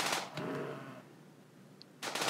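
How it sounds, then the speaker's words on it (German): Rapid bursts of gunfire from the colony simulation game RimWorld, a loud rattling volley at the start, a shorter one, then another sharp burst at the end after a quieter gap. "12 Schüsse abgeben und nur einen treffen,"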